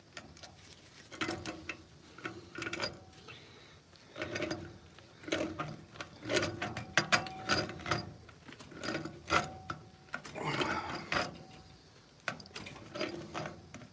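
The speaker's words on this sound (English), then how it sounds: "tighten the wrench just a little bit" A wrench or ratchet clicks in short bursts while tightening a fitting on a leaking boiler, the mechanical ticks close and moderately loud, with irregular pauses between turns and no talk.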